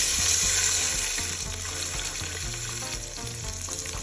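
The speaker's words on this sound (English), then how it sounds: "So searing the pork helps build up the flavor" Pork belly for chashu sears in a little oil in a pan, producing a loud, continuous sizzle and crackle close to the listener with no talking.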